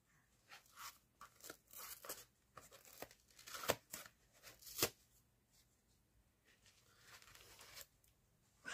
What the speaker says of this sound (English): Next, take my handy dandy sponge. Cut me a piece off of that.